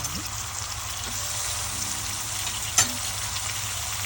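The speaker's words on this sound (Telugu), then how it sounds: "ఈ టైంలోనే టమాటాలు వేస్తాను, కలుపుకుంటాను" Tomatoes sizzle and fry in a pan for a lentil kurma. A steady, close hiss fills the whole stretch, with one short sharp clink of stirring partway through.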